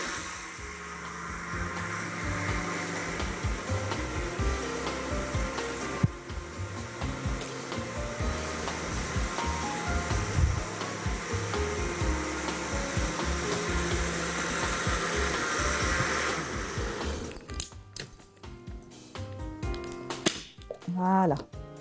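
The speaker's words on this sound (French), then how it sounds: "c'est bien de mixer une seconde fois pour que ça soit bien mixé" Kitchen blender whirring through a spinach or celery soup for a second blending, a loud continuous motor drone lasting most of the time before it cuts out into clattering and handling sounds.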